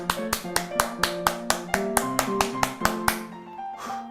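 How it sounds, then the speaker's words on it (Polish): Hands clapping as a warm-up before piano playing, about fifteen sharp evenly spaced claps close by, a steady rhythm that stops near the end, with soft piano notes sounding underneath. "Zacznijmy od klaskania. Poklaszcz tak chwilę."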